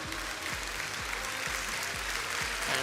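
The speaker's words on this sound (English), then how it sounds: "And deserved applause from the crowd." Crowd applause at a UCI Track World Cup velodrome in Saint-Quentin, France: sustained, even clapping from the stands over a low, regularly repeating whoosh.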